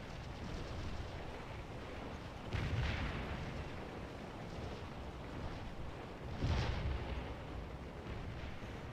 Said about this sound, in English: Enemy artillery is opened back up.